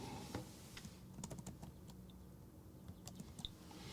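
Quick, uneven tapping of a computer keyboard as text is typed, light clustered keystrokes with short pauses, close and fairly quiet, no voice.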